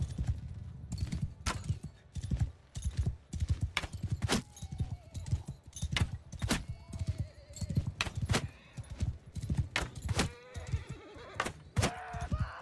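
A mounted charge in the medieval battle game Bannerlord: rapid, uneven hoofbeats thud and clatter throughout, broken by sharp impacts and a few faint neighs, fairly close and busy.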